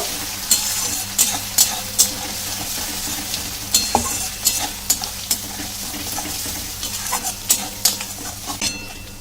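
Ginger-garlic paste frying with onions for a pangas fish curry sizzles steadily while a spoon stirs and scrapes the pan in repeated, clattering strokes up close.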